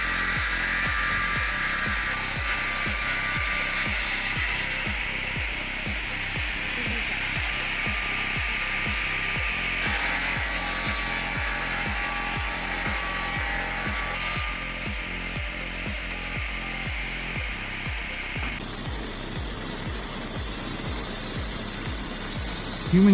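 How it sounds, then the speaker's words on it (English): A sawmill blade bites steadily through a log to cut a plank, a loud continuous mechanical whine over a rapid rhythmic chugging that runs unbroken throughout, shifting tone slightly every few seconds, with no voices. "the razor-sharp blade keeps biting into the log, throwing out clouds of sawdust as a smooth plank gradually takes shape"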